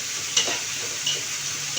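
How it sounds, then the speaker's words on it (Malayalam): A paneer and mushroom biryani mixture is stirred in a pan, with two brief scraping strokes over a steady sizzling hiss and no talking. "ഇതൊന്ന് വാടണ വരെ നമുക്ക് ചെറുതായിട്ട് ഇളക്കിക്കൊണ്ടിരിക്കുക"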